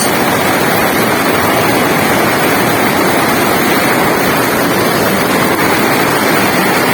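A strong current of flood water rushes in a continuous loud, dense roar with heavy wind buffeting, steady and unbroken throughout.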